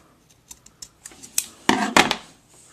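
Scissors snip through fabric while a Halloween cat costume for a Lalaloopsy doll is cut, a few light, spaced clicks building to two louder, longer cutting bursts close by, with no talking.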